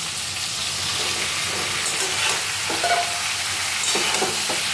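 Eggplant pieces frying with potatoes in a pan, stirred as they cook. A constant close sizzle is punctuated by soft scraping and clicking from the stirring.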